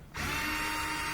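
A power drill whirs steadily while backing screws out of a Whirlpool dryer cabinet, with a continuous close, loud motor whine and no talk.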